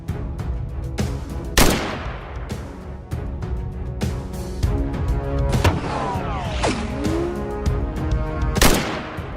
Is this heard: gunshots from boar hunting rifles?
yes